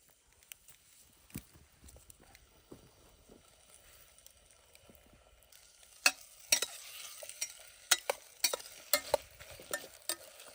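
Potato and tomato fry in clarified butter in a pan over an outdoor fire in a forest after dark. A faint, quiet start gives way to a run of clattering stirring strokes over a soft sizzle.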